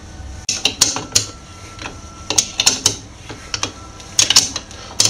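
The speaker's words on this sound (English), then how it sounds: "I'll turn this glare nut right down, right to the bottom, as tight as possible." A glare nut on an Emech Control F3 water mixing valve is tightened with a glare nut spanner, giving a quick series of close metallic clicks and clanks in irregular bursts.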